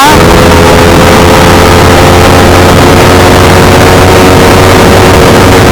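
Yamaha R15 V4 motorcycle engine pulling hard through the gears on a top speed run, a loud continuous droning roar with steady tonal whine held close throughout, no voices.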